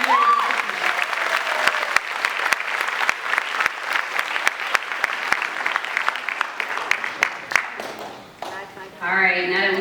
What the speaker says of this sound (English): Let's give a round of applause to our ninth graders